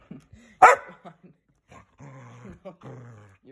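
A dog barks and growls at its owner who is leaving, giving one sharp loud bark among low grumbling growls and whines, close and intermittent.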